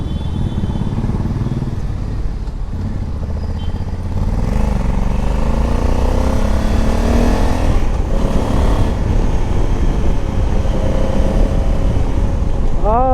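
A 2020 Honda Africa Twin 1100 with manual gearbox pulls away from a traffic light and accelerates, its engine note rising in loud sweeping gear-by-gear runs over steady close wind rumble.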